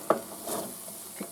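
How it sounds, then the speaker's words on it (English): Onions frying in a pan give a soft sizzle broken by a sharp stirring clatter at the start and a faint scrape near the end, close and quiet with no voices. "going to cook these until tender. Okay, my onions are almost there."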